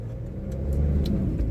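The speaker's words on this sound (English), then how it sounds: "As I watched a car go one way street the wrong way." A passing car driving the wrong way along a one-way street, a steady low engine rumble held close and continuous throughout with no voices.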